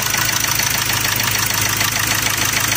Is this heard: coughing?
no